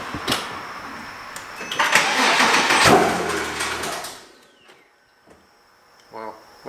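A Porsche Cayman S with a blown engine cranks and fires with its serpentine belt removed, running briefly in a loud, rough burst before cutting out, followed by a few faint clicks and a short mechanical whir.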